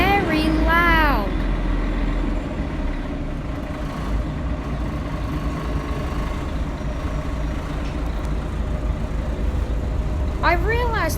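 Scania L113CRL bus with Ansair Orana body, heard from inside the cabin: a loud, steady low engine drone fills the whole stretch, with a rising and falling whine near the start and again at the end.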